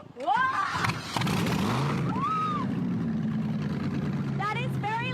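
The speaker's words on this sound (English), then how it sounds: "we're going to start this car. Are you ready? Rev your engine!" A car engine turns over and then roars steadily at high revs, loud and sustained for several seconds, while excited voices talk over it.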